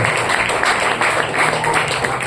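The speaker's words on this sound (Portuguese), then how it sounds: "Aplauda o Senhor." Church congregation applauding during a Portuguese-language worship service, a dense, steady wash of many hands clapping at once for the whole clip.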